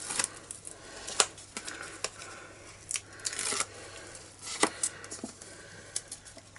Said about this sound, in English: now I'm going to take the adhesive off the back of the shaker dome